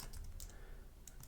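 Faint clicks of typing on a computer keyboard come in a few short bursts, quiet and close by, while a trading platform is in use.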